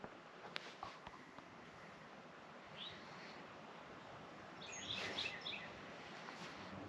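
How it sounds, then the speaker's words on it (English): Songbirds chirp at dawn on a chilly morning, scattered calls standing out faintly over a steady wind-like outdoor hiss, with a brief busier burst of tweets near the end. "The birds are at it."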